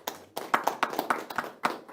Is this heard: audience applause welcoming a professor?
yes